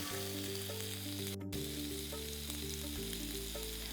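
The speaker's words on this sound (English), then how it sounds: "I'm going to transfer these in the hot cast iron skillet" Beef tenderloin searing in a hot cast iron skillet gives a loud, dense, steady sizzle with faint low hum underneath, continuous from start to finish.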